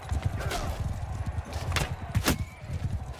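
Horses in a large battle in Mount & Blade 2 Bannerlord, hooves clopping continuously in a busy rumbling mix with a couple of sharp neighing or impact flares, fairly loud and close, without talk.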